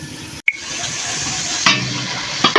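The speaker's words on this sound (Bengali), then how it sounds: "আলুটা মশলার সঙ্গে একটু কষিয়ে নেব" Potatoes fry with spices in a covered pan, making a steady, loud sizzle that runs throughout, broken by a couple of brief clattering knocks, with no one speaking.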